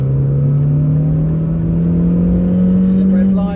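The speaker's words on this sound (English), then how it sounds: "Let's overtake this Peugeot." A 2000 Renault Megane Coupe with a 1.6 16v engine accelerating steadily to overtake, a droning engine note climbing gradually in pitch, heard from inside the cabin, close and continuous.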